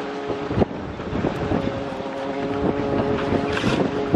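A tiny single-handed sailing dinghy out in a breeze on the protected side of a wall, heard as steady wind rush and water noise with a low hum and a faint thump near the start. No one speaks.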